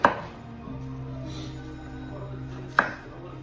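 Jalapeño peppers and onions being sliced on a cutting board for pickling, with two sharp knife chops near the start and end and a steady quiet background hum between them.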